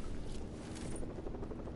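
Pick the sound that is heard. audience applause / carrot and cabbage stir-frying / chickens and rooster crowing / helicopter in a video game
helicopter in a video game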